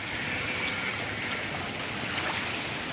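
Floodwater from heavy rain rushing like a river, a continuous broad roaring wash of moving water, steady and close with no voices.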